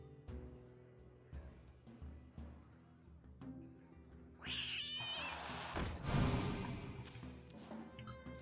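Cat meowing in the card video game Hearthstone, a drawn-out yowling meow rising above clicks and light game sounds, followed by a louder burst of effects.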